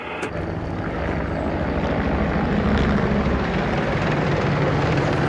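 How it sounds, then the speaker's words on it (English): An attack helicopter on a front line in Afghanistan flies overhead, its engine and rotor producing a loud, continuous roar that builds slightly and holds steady throughout. "As you can see, the attack helicopter's turned up."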